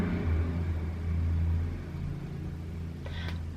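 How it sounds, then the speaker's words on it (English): Loud trucks roll past outside in a residential neighborhood, a heavy low engine rumble that swells and then eases off, steady throughout with no talking. "every video I have to apologize for like loud trucks and everything in the background"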